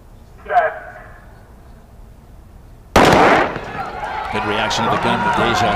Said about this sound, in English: Reaction of the gun with Deja Stevens